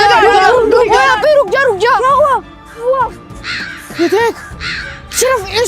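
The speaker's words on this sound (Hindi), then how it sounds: "सिर्फ इसी दरख्त में कौवे बोल रहे हैं।" Crows caw in a tree in a jungle, giving loud, harsh, repeated calls that overlap in quick bursts, with a person talking over them.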